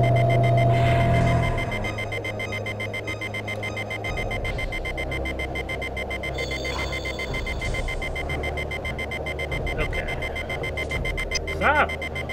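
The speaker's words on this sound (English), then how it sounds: "I love this loud beeping in my ear." A loud alarm beeps in the 1995 video game BioForge, a steady electronic tone that stays high in the mix throughout, with game noises and a voice talking underneath.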